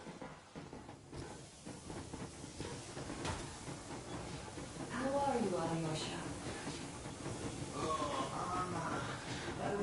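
Steam train rolling along in Metro Exodus, a steady rumbling, hissing rail noise running throughout under frequent conversation and a brief spoken greeting.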